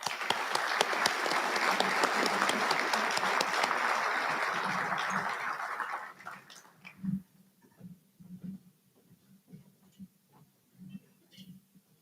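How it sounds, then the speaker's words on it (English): Applause at an awards dinner fills the hall for about six seconds, dense and steady, then breaks off into a quieter room with a few scattered claps and low murmuring voices. "please join me in a round of applause for the Intelligence Award recipients"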